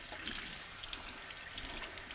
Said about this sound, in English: you can squeegee out the extra water with your hands